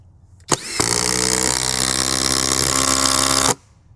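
A Flex cordless impact driver sinks a 6-inch TimberLok screw into timber, a loud steady whirring drone that starts sharply, runs for about three seconds and then cuts off abruptly before the fastener is fully seated.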